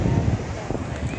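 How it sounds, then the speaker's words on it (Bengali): Strong sea wind at Marina Beach in Chennai buffets the microphone in a low, rumbling roar over the surf, with a voice talking faintly underneath. "দেখুন বাতাসের শব্দ।"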